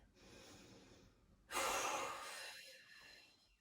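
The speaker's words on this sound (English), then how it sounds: "Take 1 more breath." Heavy breathing during a yoga plank hold, steady airy breaths, then a loud forceful exhale around halfway through that tapers off, close and without talk.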